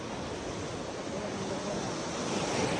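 Waves roll in against a seawall on the Bohol coast in the Philippines, giving a continuous even wash of surf with light wind noise. The sound is moderately loud and steady, and nobody speaks.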